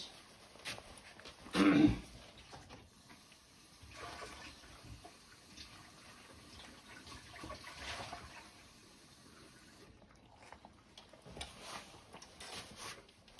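Water changed in a dog's bowl: a short burst of pouring or splashing early on, then quieter intermittent trickles, clinks and movement, close and fairly faint.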